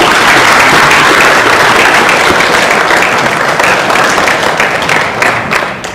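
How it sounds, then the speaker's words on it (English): Loud, sustained applause from an audience at an IPO launch event for Verdant Solar Holdings, a dense wash of clapping that holds steady for several seconds before tapering slightly at the end. "Please join me in giving Verdant Solar a big round of applause"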